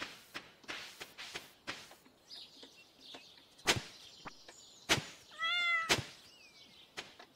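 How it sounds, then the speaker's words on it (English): A cat in Stardew Valley meows twice, clear and close, amid scattered soft thuds and clicks of game sound effects. "And there's my cat meowing."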